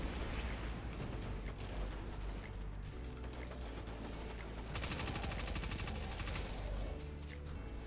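Rapid submachine gun fire in the Destiny 2 legendary Praksis mission, with bursts of quick clattering shots and mechanical clicks over game noise, loudest in a sustained burst toward the end.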